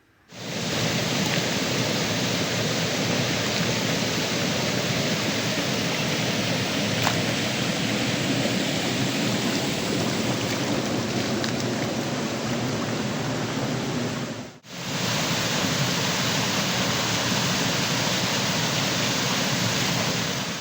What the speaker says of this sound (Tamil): அங்கே போகிற வழியில் தான் இந்த ஒரு வாய்க்காலில் தண்ணி நல்லா ஓடிக்கிட்டு இருந்ததை ரெக்கார்ட் பண்ணியிருந்தாங்க